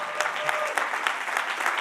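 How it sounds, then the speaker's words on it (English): Audience applause at a keynote talk on longevity and health, a steady patter of many hands clapping at moderate distance, fairly soft and continuous throughout. "So give yourself a round of applause"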